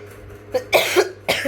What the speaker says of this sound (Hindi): खांसी वगैरह बहुत तेज़ है